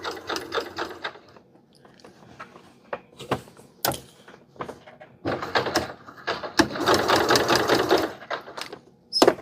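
A sewing machine back stitching slowly through cotton gauze for a men's tunic shirt, with bursts of mechanical needle whirring and clicking broken by brief pauses, close and moderately loud, longest run near the end.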